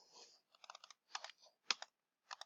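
Quick bursts of computer mouse clicks in small clusters, like repeated triple-clicks while editing a spreadsheet, close and quiet with gaps of silence between.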